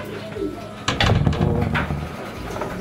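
A checkered racing pigeon with a cold gives soft, throaty coos in a short burst at close range, with rustling handling noise around the calls.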